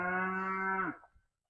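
A South Poll cow lets out a single long, clear moo that holds steady, then drops in pitch and fades, heard close with no other sounds.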